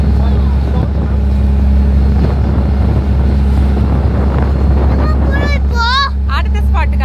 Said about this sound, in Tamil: அடுத்த இடத்துக்கு போலான்னு சொல்லிட்டு போட் எடுத்துட்டாங்க